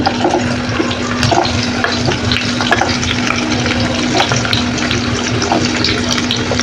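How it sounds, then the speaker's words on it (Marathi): Onions sizzle and crackle in hot oil in a pan while matar paneer masala is being cooked, a steady, fairly loud frying hiss with a low background hum and no talking. "आपलं आपण तेल टाकून घेऊया कांदा टाकू सगळ्यात आधी"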